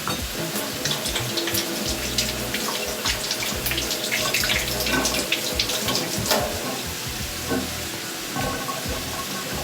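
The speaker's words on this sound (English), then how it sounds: "Let me just wash my hands." A kitchen tap runs steadily during handwashing, a continuous close splashing hiss with uneven spatter as the hands move through the stream.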